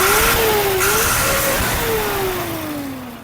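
A ZIL grain truck engine revs up and down in a couple of swells, close and loud, then settles and fades slightly toward the end.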